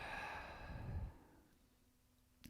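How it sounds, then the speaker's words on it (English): A single audible exhale during yoga breathing: a soft, breathy sigh trailing off over about a second, near and alone, followed by quiet room tone and a faint click. "inhaling deeply and exhaling audibly, letting it go"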